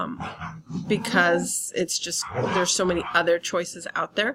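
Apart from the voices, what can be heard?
dogs barking rowdily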